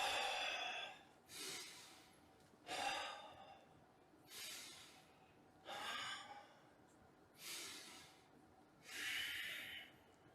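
Slow, deep breaths in and out during a breathing exercise, about six long breath cycles, each a close, airy rush with brief gaps between, with no speech.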